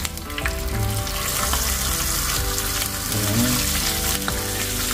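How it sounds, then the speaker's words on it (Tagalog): Fish frying in hot oil in a pan gives a loud, continuous sizzle and crackle with a few brief clatters, close up and with no talking. "maglagay na rin tayo ng mantika. Prito muna tayo."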